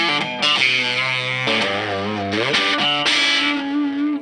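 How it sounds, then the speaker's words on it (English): An electric guitar, apparently a Dean Z, plays through a Spun Loud Effects Blister Peel distortion pedal. Loud, saturated sustained notes and shifting chords ring out alone with no talking. "This pedal is called the Blister Peel. It is a dirt pedal with two sides to it"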